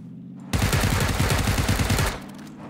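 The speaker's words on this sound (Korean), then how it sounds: "다시야 위협 사격" Warning shots in the PUBG video game: a loud, close burst of rapid automatic gunfire, about a dozen evenly spaced shots over roughly one and a half seconds, then quiet background ambience.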